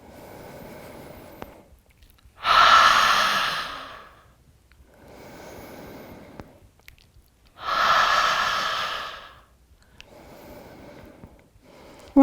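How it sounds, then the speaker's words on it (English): Two long, loud audible exhales during yoga breathing, each lasting about two seconds, with softer inhales between them and no speech. "So you can probably follow my breath pattern on this"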